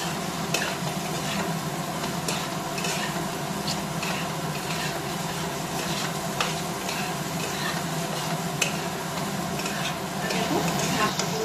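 Continuous sizzle of prawns frying in spice paste in a pan, with a spoon stirring and scraping at irregular intervals.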